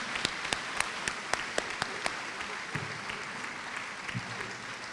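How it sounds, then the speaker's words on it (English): Crowd applause at a ribbon cutting for upgrades to the William R. Anderson Jr. Community Center. A few sharp, separate claps open it, then they merge into a steady wash of clapping from a moderate crowd, heard at a moderate distance. "Let's give everybody a round of applause."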